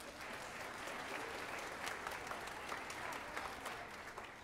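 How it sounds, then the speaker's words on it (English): An audience at a school spring band concert for 5th and 6th graders bursts into sustained, dense applause, clapping evenly throughout without letting up. "how about a nice round of applause for him?"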